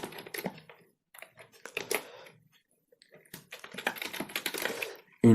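C program code typed on a computer keyboard, close bursts of rapid key clicks separated by short pauses, with a louder clack at the very end.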